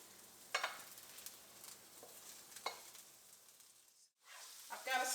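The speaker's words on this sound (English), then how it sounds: "I just want to sweat these onions just a bit." Onions sweat in a pan with a quiet steady sizzle, broken by a few stirring scrapes and a short silent gap near the end.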